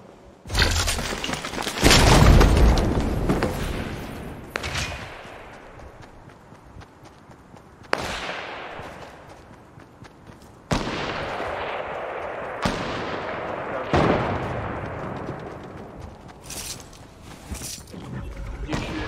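Gunfire rings out in a shooting video game played with a shotgun: a series of sharp, loud blasts, each trailing off into a ringing decay, spaced several seconds apart over continuous game background.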